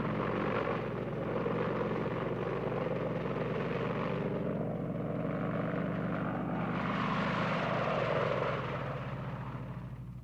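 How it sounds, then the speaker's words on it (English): Apache attack helicopters from the first Gulf War's Desert Storm air campaign, a steady loud rotor and turbine drone throughout, swelling slightly mid-way and fading near the end, with no voices. "Apache attack helicopters were the only army units to take part in the air campaign."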